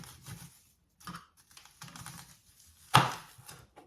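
A knife cuts through a small onion held steady with a fork, giving several short close chopping taps against the board, with one sharp louder cut near the end.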